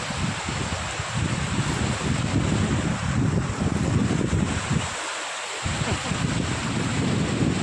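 Strong wind near the sea buffets the microphone in a loud, continuous roar, with surf-like rumbling beneath and a short lull near the end.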